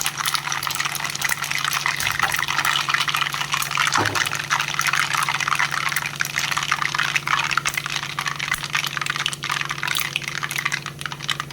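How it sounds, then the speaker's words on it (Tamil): Mustard seeds spluttering in hot oil for mango pickle give a steady dense crackle and sizzle, close and continuous throughout with no talk. "கடுகு நல்லா பொரிஞ்சு வருது."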